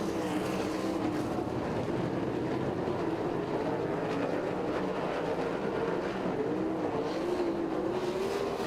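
Sprint cars with 410 engines race in heats at Lincoln Speedway, a continuous loud engine drone with rising and falling pitch as cars circle the track, steady crowd-level roar throughout with no talk.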